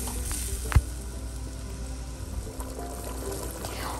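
Spices and gravy for a kofta curry fry in a pan with a soft, even, continuous sizzle, quiet and close, with one brief knock early on.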